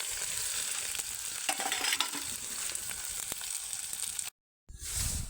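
Onions fry in a pan with a continuous dense sizzle and light stirring, close and fairly loud, briefly cutting out before the hiss resumes.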